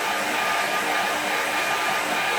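Hair dryer blowing steadily on a wet watercolour painting clipped to an easel, a constant loud breathy whir held without change.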